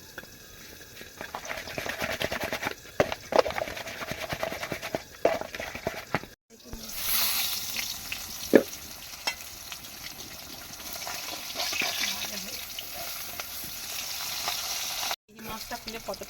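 Fish frying in hot oil in a home kitchen, a steady crackling sizzle with scattered pops that runs throughout, briefly cutting out twice, with a voice speaking over it at times.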